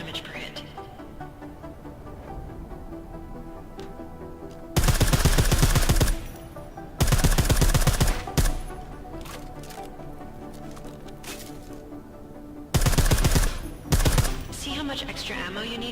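Silenced gun bursts from Deus Ex: Mankind Divided come as three rapid, dense volleys of suppressed shots, each lasting a second or two, with someone talking throughout.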